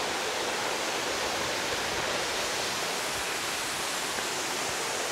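Batlag Falls in Tanay, Rizal, a broad, steady roar of falling water, loud and close, filling the whole stretch without pause or voices.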